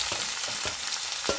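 Onions, chilies, thyme and curry leaf frying in oil for a lamb mince dish, giving a steady close sizzle with a few soft stirring scrapes, no voices.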